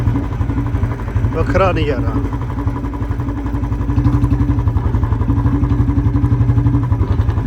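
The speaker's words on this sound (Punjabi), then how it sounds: "ਬੁਲਟ ਚਲਾਉਣ ਦਾ" A Royal Enfield Bullet motorcycle thumps steadily up close on an outdoor ride, its low, even engine pulse running throughout while someone talks over it.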